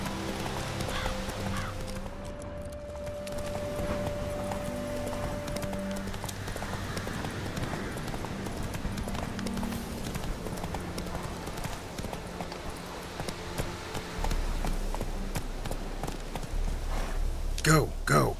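Roach, a horse in the game The Witcher 3: Wild Hunt, trotting with repeated hoof clip-clops over game music and ambience, with a player speaking over it and a brief neigh-like sound near the end.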